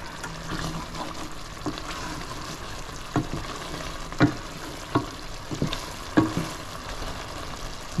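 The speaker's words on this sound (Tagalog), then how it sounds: "di na maingay kasi kahoy na yung gamit ko na sandok" A wooden ladle stirs a pan of mussel Bicol Express over steady frying sizzle, with soft scraping and a few sharper knocks against the pan.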